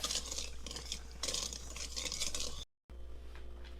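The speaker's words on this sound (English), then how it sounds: "And now we whisk until smooth." Whisk beating a mixture of milk and vanilla in a bowl for apple bread batter, a steady rapid scraping and clinking that runs continuously, close and fairly loud, then breaks off briefly before resuming.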